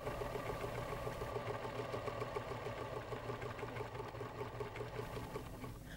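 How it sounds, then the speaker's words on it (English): A Pfaff sewing machine (model 2014, 2022 or 2024) stitches a heart embroidery pattern through fabric over stabilizer, a steady, fast, close mechanical whir with an even needle rhythm running throughout. "Begin sewing. Sew several hearts."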